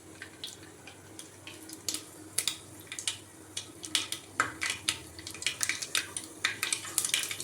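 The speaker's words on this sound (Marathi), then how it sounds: "आता आपण याच्यामध्ये घालूया मोहरी। मोहरी चांगली तळतळून द्यायची।" Mustard seeds splutter and pop in hot oil on the stove, a steady series of sharp crackles and bursts that grow more frequent over the seconds, fairly close, with no talking.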